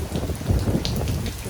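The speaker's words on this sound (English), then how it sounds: "Steady rain." Steady rain falling during Hurricane Delta's landfall in Louisiana, a dense, continuous wash of drops on surfaces with occasional stronger gusts, loud and close with no voices.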